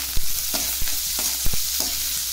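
Onions and green chillies sauté in a pan, sizzling steadily while a spoon scrapes and stirs in several quick, close knocks.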